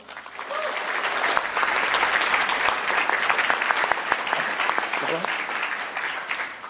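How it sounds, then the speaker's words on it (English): Loud, sustained applause from a large audience, dense clapping filling the whole stretch with steady intensity and a slight swell near the middle. "So give yourselves a big round of applause."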